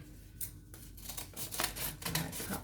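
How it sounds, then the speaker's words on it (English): Scissors snip through paper, cutting out bunny ear shapes for a headband, with a series of close, crisp cuts in uneven rhythm and no talk. "I'm going to cut these out."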